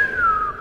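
A person whistles a short descending note, imitating a Sombra voice line from the Overwatch 2 video game; brief, clear and close.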